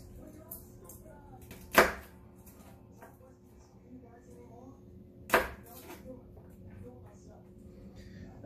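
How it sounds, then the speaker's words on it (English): Garlic cloves are crushed to loosen their peels: two sharp, separate thumps a few seconds apart, close and fairly loud over a quiet kitchen background. "Crush them a little bit to make the peelings come off."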